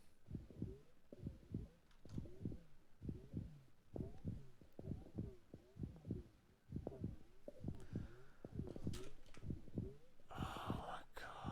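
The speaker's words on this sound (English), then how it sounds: "why does Planet X have such an organic heartbeat?" A slow, regular organic heartbeat thumps in a room of the video game Mission to Planet X, each beat a soft low double pulse repeating steadily under faint ambient hum, with a brief hiss near the end.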